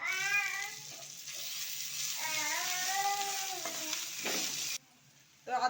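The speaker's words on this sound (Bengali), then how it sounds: "তো আদাটা আমি খুব ভালো করে ভেজে নিয়েছি" Grated ginger fries in a pan with cumin, a steady close sizzle, while a cat meows repeatedly over it before a short near-silent pause.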